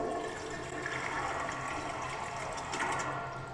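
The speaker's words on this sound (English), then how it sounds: "Oh yeah, we're just gonna flush the toilet." Toilet flushing in an iPhone horror video game, a steady rushing of water that fills the whole few seconds at an even, fairly loud level, with nobody talking over it.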